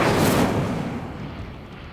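Incendio fire spell cast in Hogwarts Legacy: a loud, broad burst of roaring flame that swells at once and then fades over about two seconds, with no voices.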